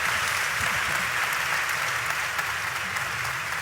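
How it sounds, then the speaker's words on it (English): A conference audience applauds steadily and densely, many hands clapping in a continuous wash of sound with no voices over it. "first of all, a round of applause"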